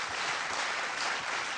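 Steady, dense audience applause fills a Malayalam junior singing competition stage show, continuous and fairly loud with no talk over it.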